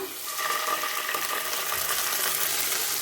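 Nigella seeds and ginger paste sizzling in hot oil in a wok while cooking a Bengali tangra fish curry with brinjal and bori: a steady, close, hissing fry that holds evenly throughout.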